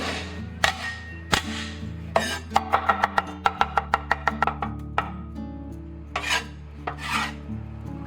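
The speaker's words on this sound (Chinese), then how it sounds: "接下来我们就准备一把大蒜，给它拍碎，然后切末。" A knife chops crushed garlic on a cutting board, a few single heavy whacks followed by a quick rapid run of sharp chops, then more scattered strokes, close and loud with no talk.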